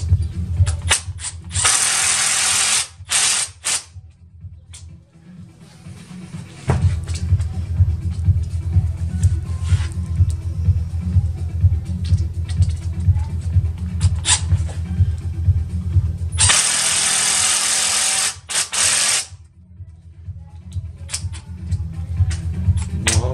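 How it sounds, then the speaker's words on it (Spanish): A power screwdriver drives screws into a lightweight 3-inch door, with long loud whirring runs that have a fast ratcheting chatter, separated by short pauses, close up, with occasional talk in the background. "Le metemos sus tornillos."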